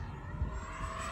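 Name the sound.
Freewing F-35 70mm RC jet plane flying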